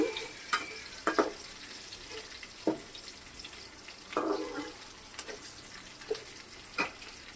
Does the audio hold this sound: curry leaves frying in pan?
yes